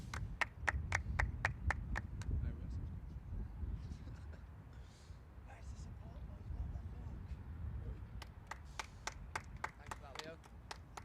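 At a Sheffield United versus Málaga CF Fundación football match, the crowd claps in a steady rhythm as the players come out. The clapping is faint and distant under a constant murmur of the crowd, fades, then comes back near the end.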